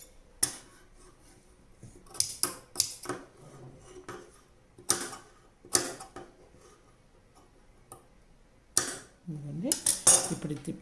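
Scissors snipping fabric while a night dress is being stitched: a series of crisp, irregular cutting clicks spaced through the clip, close by, with a faint thread-pulling rustle near the end.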